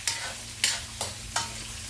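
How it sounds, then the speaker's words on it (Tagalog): Escabeche with carrots being stirred in a pan, four distinct scraping strokes at a steady pace over a soft, continuous sizzle, close by with no voices. "Ating halu-haluin ito"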